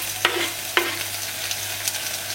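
Onions and tomatoes fry in a pan, a steady close sizzle with a couple of sharp clinks from stirring and a few softer taps, with no talking.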